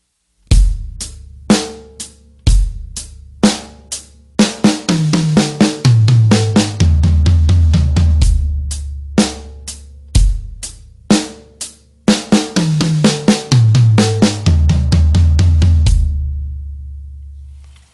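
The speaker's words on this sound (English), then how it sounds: "So we're doing 2 on the snare, 2 on the high tom, 2 on the snare, 2 on the mid tom" A drum kit plays a fill: pairs of snare hits alternating with pairs on the high and mid toms, then six floor tom strokes, repeated twice with sharp, loud, close attacks and no talking.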